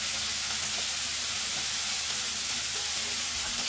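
Chicken pieces for a roast, flipped over in hot oil, give a steady, dense sizzle that carries on without a break at close range, with no voices over it.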